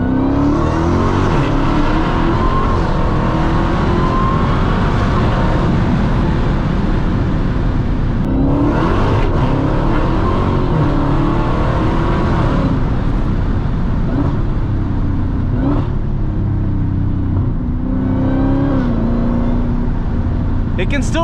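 A Dodge SuperStock Redeye Widebody's supercharged engine roars loudly from inside the cabin, revving up through repeated upshifts with brief dips between gears, while someone talks over it.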